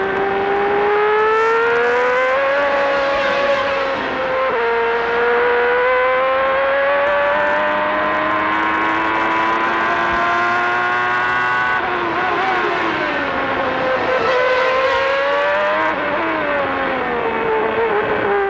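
1994 Formula 1 cars at the Japanese Grand Prix at Suzuka, Mansell chasing Alesi's Ferrari, make a loud, sustained high-pitched engine wail that rises and dips through gear changes, with no break.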